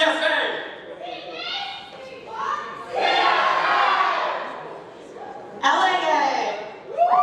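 A conference crowd cheers and yells in loud bursts during a roll call at an opening event, swelling and fading in waves with voices shouting over one another.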